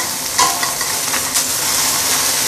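A big fish frying in a wok with little oil makes a loud, dense sizzle, and a spatula scrapes in brief bursts as it releases the stuck fish.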